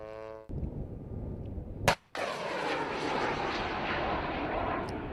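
A Stinger missile fired from a military vehicle: a sharp loud launch crack followed by a sustained roaring whoosh that fades slowly into the distance, with no voices.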